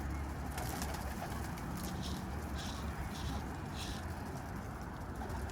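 Pigeons coo softly amid a constant rustling background in a coop, several low repeated calls that sound somewhat distant and partly buried in the noise.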